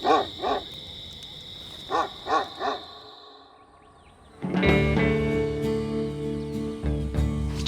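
A dog prowling around a campsite at night barks in short bursts, first two quick barks and then three more, moderately close, before a louder, tonal sound takes over the last seconds.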